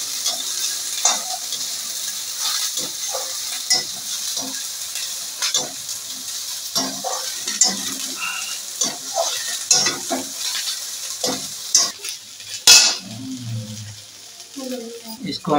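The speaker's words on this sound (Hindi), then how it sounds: "इसको हम थोड़ी देर के लिए फ्राई करेंगे।" Soya chunks fry in mustard oil in a kadhai while being stirred, giving a close, steady sizzle broken by repeated scraping strokes of the spoon against the pan.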